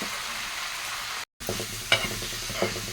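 Leafy greens stew in a pan over an outdoor wood-fired stove, a steady close sizzle with a short gap and a few sharp clinks of a utensil against the pan.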